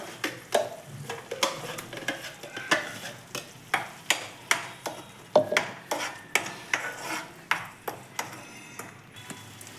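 Tomato paste fries in a pan of chana masala gravy as a spoon scrapes and stirs it; steady sizzle sits under a regular series of sharp metallic clinks, about two each second, close and moderately loud.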